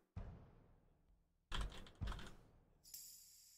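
Keyboard typing sound effect in The Sims 4: a few sharp, close clacks of keys in separate bursts, quiet and spaced out, with a bright chime-like tail at the end.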